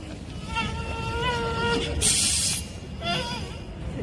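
A performer's voice imitates a flying mosquito at a street busking show: a thin, wavering, high-pitched whine that rises and falls in close buzzing bursts, with a brief hissy noise in the middle.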